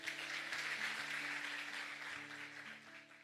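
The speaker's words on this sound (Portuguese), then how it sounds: "Aplauda ao Senhor." A church congregation applauds steadily, a wash of clapping that slowly fades, with sustained keyboard chords playing underneath.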